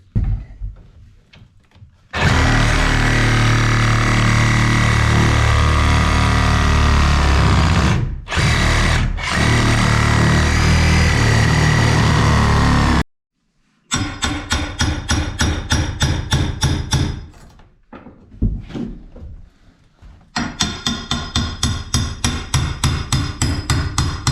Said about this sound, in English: let me get the Sawzall and let's get this thing ripped out of here